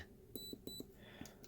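Short electronic beeps ring out from a Neopixel LED circuit board, a handful of quick tonal bleeps in an uneven pattern, close and fairly quiet, with no talking.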